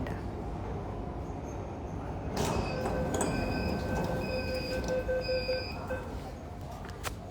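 Inside a moving Delhi Metro train, a steady low rumble runs throughout, joined after a couple of seconds by a string of clear electronic chimes and tones.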